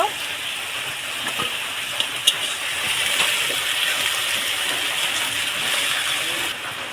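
Water poured into a bowl while rinsing it during mutton head cooking, a steady close gushing hiss running for several seconds with a couple of small clinks partway through.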